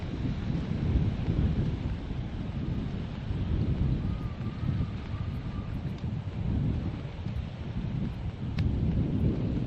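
Strong wind at a coastal jetty at Crookhaven Heads buffets the microphone with a constant loud, low roar for nearly ten seconds, surging and easing without a break.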